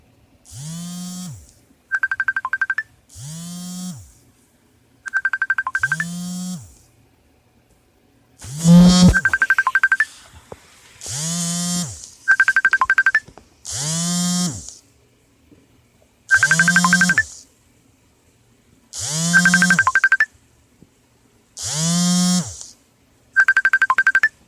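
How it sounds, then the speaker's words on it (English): A phone ringtone from an incoming call repeats about a dozen times, each a short, loud, buzzing electronic melodic burst separated by brief pauses, close and with no talking. "Sorry, I had another phone call."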